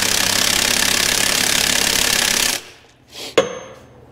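An impact wrench hammers steadily and loudly for a couple of seconds while tightening a part on a Bennche 500 UTV engine, then stops, followed by a few faint clanks of handling.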